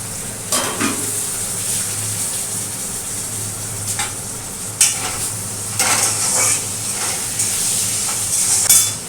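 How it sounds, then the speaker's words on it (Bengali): Fish and vegetables sizzle and hiss as they fry in a hot pan, with occasional stirring scrapes and louder sizzle bursts, close and steady. "এখানে মাছের সবজিটা একটু ভাজা ভাজা করে নিই"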